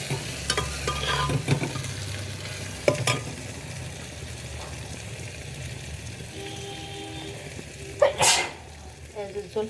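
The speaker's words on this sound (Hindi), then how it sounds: "छींक आते हुए, मैं जब भी खाना बनाती हूँ छींक जरूर आती है।" A woman sneezes a few times while cooking a vegetable dish on a gas stove, the sharp bursts rising over a steady sizzle of frying and occasional stirring, with some talk at a distance.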